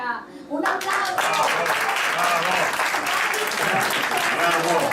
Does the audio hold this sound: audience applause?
yes